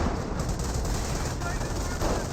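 Rifle fire from a Rifleman squad in the World War II strategy game Company of Heroes 1, a dense, steady rattle of shots blending into a continuous low-level din with no clear pauses.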